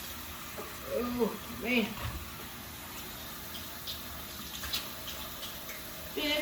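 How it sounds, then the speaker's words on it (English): A kitchen tap runs steadily while hands are washed beneath it, a low continuous water hiss with a brief spoken exclamation over it. "let me wash my hands again to get this off me"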